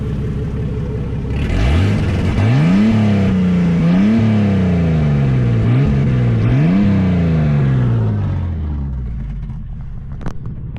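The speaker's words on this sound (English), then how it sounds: "So this is what the bloody chopped intake sounds like." A Ford AU Falcon with a chopped intake and chopped exhaust revs hard close by, rising and falling in four or five sweeping pulls over a deep idle rumble before settling back.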